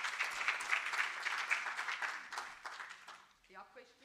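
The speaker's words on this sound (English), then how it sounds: "if we can just give all of them a round of applause" An audience at a research forum on gender-based violence in higher education applauds the presenters with steady, full clapping that tapers off as a voice begins speaking at the end.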